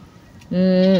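A pet goat gives a single loud, drawn-out bleat close by, rising abruptly and wavering slightly before fading at the end.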